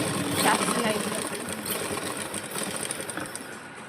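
A sewing machine stitches a shirt collar with a continuous, even whirring drone heard up close throughout.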